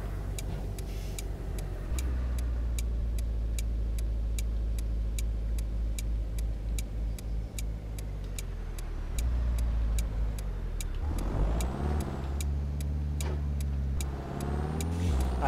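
A Mercedes S350 engine in Euro Truck Simulator 2 hums and climbs in pitch as the car accelerates, backed by a steady ticking like a turn signal, with a sharper rev rise near the end.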